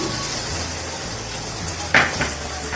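Radhaballavi filling fries in oil in a pan with a steady low sizzle, broken by a single brief clink of a utensil against the pan, close and moderate in level.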